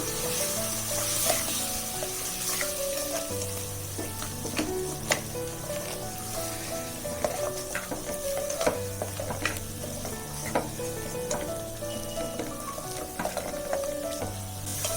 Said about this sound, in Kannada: ಸ್ವಲ್ಪ 1 ನಿಮಿಷದವರೆಗೂ ಈ ಹಸಿ ವಾಸನೆ ಹೋಗೋವರೆಗೂ ಹುರ್ಕೋಬೇಕು.